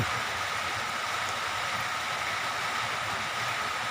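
Steady storm rain hisses evenly throughout, a dense broadband wash with no voices, constant and fairly close.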